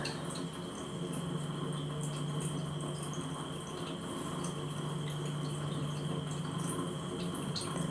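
Water running steadily into a cooking pot while preparing a fish curry with red fish, a continuous splashing pour heard close and fairly faint throughout.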